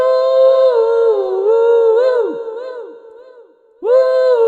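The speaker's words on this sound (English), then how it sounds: "I have to put a bright echo on my voice, and it sounds like this." A voice sings through a podcast mixer's bright echo effect, the tones ringing with a shimmering repeat and tail that fade out before a short, sharp whoop closes it, loud and close, with nothing else behind it.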